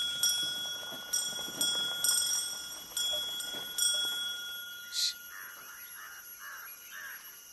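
A bell on a hand cart rings in a string of sharp metallic clangs, about six strikes at a steady pace, then a few softer chirps follow, with faint background noise.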